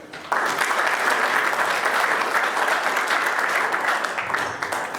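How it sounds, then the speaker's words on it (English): Audience at a race auction bursts into applause after a short pause, holding a full, steady wash of clapping that tapers slightly near the end. "let's give a round of applause to everybody involved for this year's wonderful race"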